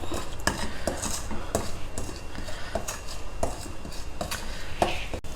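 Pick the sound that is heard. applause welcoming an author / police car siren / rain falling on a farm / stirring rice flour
stirring rice flour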